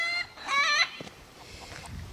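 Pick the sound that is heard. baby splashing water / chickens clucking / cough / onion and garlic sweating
chickens clucking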